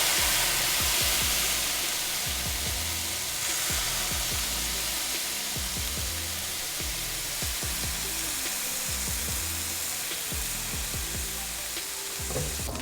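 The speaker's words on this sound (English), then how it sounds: "we're also gonna do a little fresh lemon juice and just deglaze whatever's at the bottom of this pan" Fresh lemon juice deglazing a hot pan during cooking of mullet, a loud steady sizzle and hiss throughout, with repeated scraping and stirring knocks of a utensil against the pan bottom, close up and no talk.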